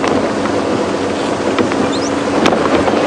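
A safari vehicle on a game drive at Djuma Game Reserve rolls slowly through drizzle, its low steady engine rumble continuous and close with a constant broadband wash, and no talk.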